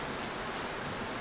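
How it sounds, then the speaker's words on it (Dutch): Steady rain falls outdoors in a dense, even hiss of drops on surfaces, fairly close and filling the whole short stretch with no voices. "Ik weet niet of jullie het horen, maar het regent nu."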